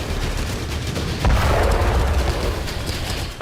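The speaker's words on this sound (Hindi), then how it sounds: "रशियन आर्टिलरी ने यहां भारी गोलाबारी की" Russian artillery shelling during close fighting in Ukraine rumbles as dull, distant booms, with a heavier low thud partway through over a continuous rough crackle of battlefield noise and no voices.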